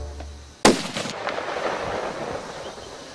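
A single sharp, loud rifle shot fired at an axis deer stag, its crack ringing out then echoing and decaying into the open surroundings over a few seconds.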